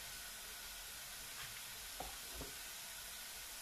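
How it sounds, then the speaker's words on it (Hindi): Chopped garlic frying in oil in a pan, a steady broad sizzle held close and even, with a couple of soft stirring knocks, no voices. "लहसुन का कच्चापन खत्म करने के लिए थोड़ा सा इसको फ्राई करते हैं जी"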